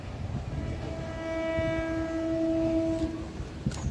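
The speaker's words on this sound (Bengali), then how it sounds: "দেখুন ওপর দিয়ে যে ট্রেনটা যাচ্ছে ওটা হচ্ছে শিয়ালদা মেন লাইন দিয়ে যাচ্ছে।" A Sealdah main line train passes overhead, sounding a long steady horn blast over a continuous rumble, with street noise around it on a walk near Bidhannagar station.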